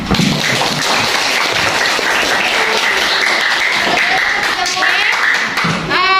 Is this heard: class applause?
yes